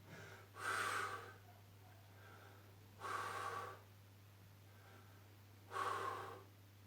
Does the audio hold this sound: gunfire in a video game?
no